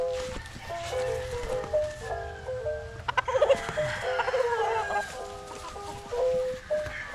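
Super sweater gamefowl hens and a rooster in a battery-type breeding setup cluck and squawk repeatedly at close range, with a busier burst of calls near the middle and faint background noise.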